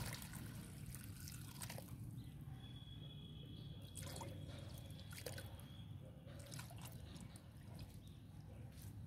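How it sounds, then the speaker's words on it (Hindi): Water is poured into a freshly repotted mango plant, giving faint, irregular drips and soft trickling splashes in a quiet indoor setting. "इस तरह से मैं अब इसमें खूब अच्छे से पानी डाल दूँ।"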